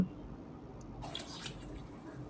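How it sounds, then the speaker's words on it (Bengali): Water is poured into jackfruit curry as it cooks in a pan, giving a soft, short splash and trickle that is faint and close, with no talking. "এইবার দিয়ে দিচ্ছি জল"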